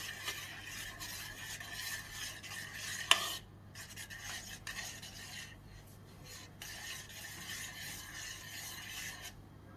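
Yogurt being stirred into şekerpare batter in a bowl, a soft, rasping scrape repeated in uneven strokes, close and faint, with one sharp knock early on and brief pauses between bursts.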